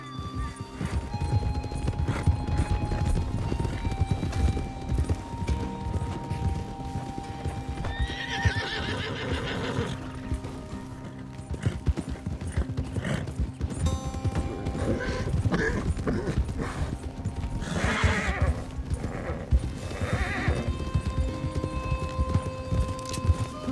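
A horse gallops and neighs in Red Dead Online, steady close hoofbeats pounding throughout with several loud whinnies breaking through over game ambience.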